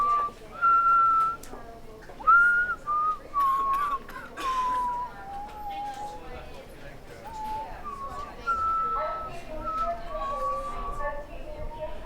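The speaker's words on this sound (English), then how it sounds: "Stop whistling that bloody song." A man whistles a wandering song melody in short phrases among soldiers of a WWI Lincolnshire Regiment battalion, moderately near, with faint background voices and murmuring around him.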